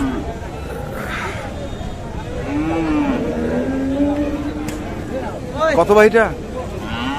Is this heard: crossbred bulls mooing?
yes